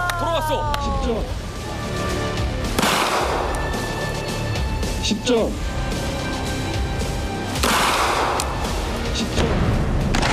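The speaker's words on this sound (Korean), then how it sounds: "사격 개시." Rifle shots at a military shooting range ring out as several sharp, loud cracks, each trailing off in a booming echo, with ambient noise between them.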